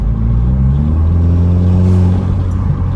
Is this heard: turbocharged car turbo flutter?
yes